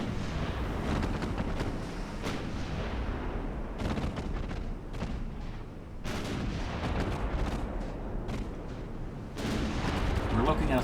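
Naval gunfire in the Ultimate Admiral Dreadnoughts warship game, with dense, continuous booming salvos and rumbling explosions layered over one another throughout.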